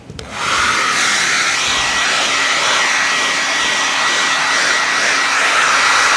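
A hair dryer switches on and blows steadily over a watercolor painting, a loud, constant airy roar with a faint hum underneath that holds for several seconds.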